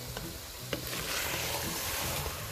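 Beetroot being stirred into lamb in a pan, with a steady broadband sizzle and soft scraping throughout, one sharper knock near the start, no voices.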